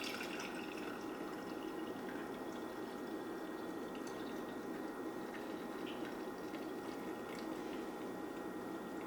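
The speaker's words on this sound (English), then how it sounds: "taking a tea filter, put it in another jar, and then pouring that through" Steeped tea poured through a tea filter into a jar, a steady continuous trickle and splash of liquid that runs close and evenly throughout with no talking.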